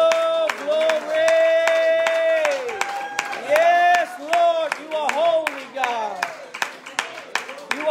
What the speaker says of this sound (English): if you want to clap your hands unto God, oh, glory.